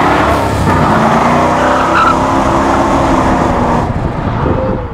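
A 1969 Dodge Charger General Lee replica doing a burnout, its engine roaring loud and close under a sustained screech of spinning, squealing tires that holds steady for the whole stretch.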